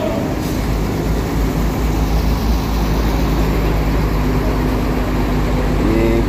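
An ALS intercity bus, number 189, maneuvers to park at a depot, its engine giving a loud, steady low rumble with traffic-like noise around it and no pauses throughout.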